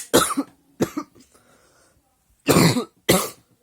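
Several harsh coughs close by, two short ones, a pause, then two more in quick succession.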